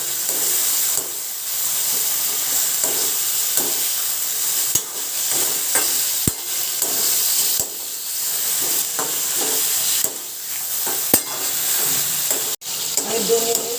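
Chicken pieces fried in a pan, a loud continuous sizzle and hiss close up, broken by repeated sharp knocks and scrapes of a spatula stirring the meat.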